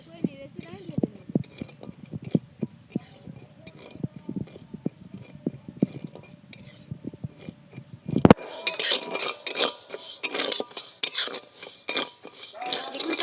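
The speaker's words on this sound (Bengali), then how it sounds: "এবার অল্প অল্প করে চালগুলো আমি ভেজে নেব।" Dry rice grains are stirred and toasted in a pan for rice-coconut naru, a spoon scraping and clinking busily against the metal at close range before a louder rustling hiss of moving grains takes over.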